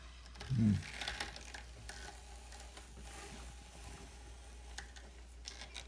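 A hand-cranked drum carder draws in angora fiber, with a soft thump at the start and then a steady, low mechanical whir. Faint ratcheting ticks run under the whir, close by and without voices.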